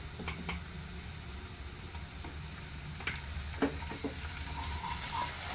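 Ginger garlic paste frying with brinjal and onions in a pan, a steady close sizzle with stirring scrapes and a few soft clinks throughout.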